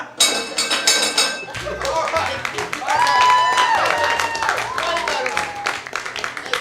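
Clapping and cheering from a comedy improv show audience in St. Pete, with whoops and shouts rising over the applause, a brief burst of clapping early and louder crowd noise in the middle.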